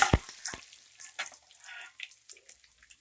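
Curry leaves hit hot oil in a pan of frying chana dal for vangibath, giving quiet crackles and sharp pops early on that settle into a soft, steady sizzle.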